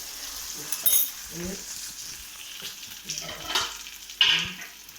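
Curry leaves drop into hot coconut oil and crackle in short bursts, with spitting pops and sizzles under a quiet kitchen background.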